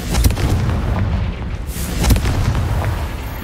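Fiery blasts from the Confringo spell in Hogwarts Legacy boom out as several heavy explosions in quick succession, with a rumbling low-end roar between the hits.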